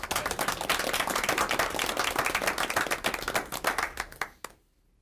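An audience at a school board meeting applauds for parents Mike and Kathy Camus: dense, lively clapping from many hands that thins out and stops abruptly near the end.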